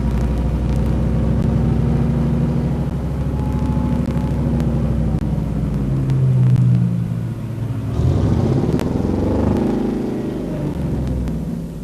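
Reynir Ragnarsson's amphibious bus rumbles along in Iceland, its engine a loud, steady low drone that dips briefly and then picks up again with a rising, revving pitch.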